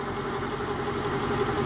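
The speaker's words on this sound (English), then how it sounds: "engine wise she sounds as sweet as a nut" A 2003 Mercedes SL500 engine runs smoothly at a steady idle, a continuous even hum heard up close with no talking.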